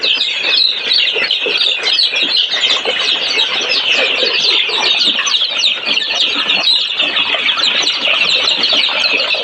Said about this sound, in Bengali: আমাদের মুরগিগুলো কত সুন্দর খাবার খাচ্ছে।